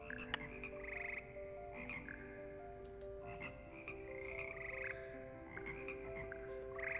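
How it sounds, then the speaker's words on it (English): Frogs croak in the Hogwarts Legacy video game, a chorus of repeated croaks overlapping in a steady rhythm against a quiet background with no talk. "The good old frog choir"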